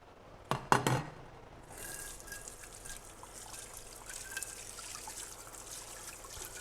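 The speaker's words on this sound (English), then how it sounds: "give your hands a wash, get rid of everything that's dirty." Running water trickles and splashes steadily as hands are rinsed at a kitchen sink during fish preparation, a few sharp knocks near the start, then a continuous soft hiss of flow at close range.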